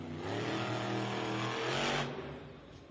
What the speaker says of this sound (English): riding for Team Throttle Monster, James Calhoun in Earthshaker